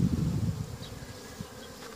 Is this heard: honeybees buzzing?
yes